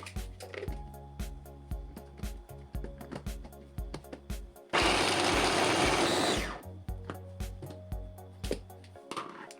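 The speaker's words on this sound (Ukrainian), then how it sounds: "беру блендер і частинами перебиваю їх до стану дрібних шматочків" Kitchen blender chops cut garlic scapes into small pieces in short stop-start pulses, with one long continuous run in the middle; the motor is loud and close, and no one speaks.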